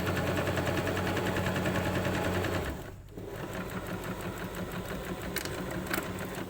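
A sewing machine stitches a very narrow French seam on taut, flat fabric, a loud, fast, steady mechanical whir that pauses briefly midway and then resumes running.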